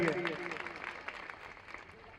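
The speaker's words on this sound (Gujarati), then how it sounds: "એમને પણ આપણે જોરદાર તાળીઓના નાદ સાથે વધાવી લઈએ" Guests at a gathering with saints' visit and sermon clap to welcome a guest, a brief, fairly faint patter of applause that fades quickly, with voices underneath.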